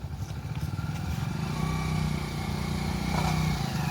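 A new motorcycle's engine idles close by with a steady, throbbing rumble that holds for the whole stretch and builds slightly partway through.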